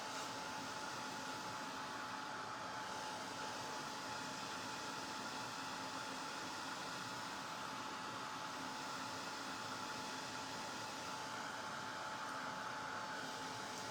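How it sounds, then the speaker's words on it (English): A Ranger heated craft tool blows hot air to dry paint on a hat, giving a steady, close, unbroken fan-like whoosh with a faint whine that holds level throughout, no talk. "Ranger heated craft tool"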